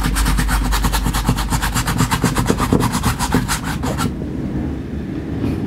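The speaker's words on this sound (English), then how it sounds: "sorry about the noise everyone, because it's an afternoon here, a lot of motorcycles and cars outside" Heavy engine noise from passing motorcycles and cars outside rumbles loudly with a rapid pulsing beat for most of the stretch, then thins abruptly to a quieter background hum.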